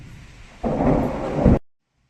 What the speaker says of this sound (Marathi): आणि बघा फायनली पावसाला सुरुवात झाली आणि पोरं बघा मजा घ्यायला लागलेत पावसाची